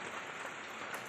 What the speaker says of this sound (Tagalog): umuulan-ulan po, kaya yan, umuulan sa labas